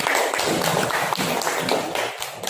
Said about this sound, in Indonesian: Oke, kita tepuk tangan sekali lagi untuk kelompok 3.